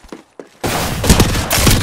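Video game gunfire from Apex Legends, where a couple of faint taps give way to a sudden, loud, continuous barrage of close incoming shots that lasts to the end.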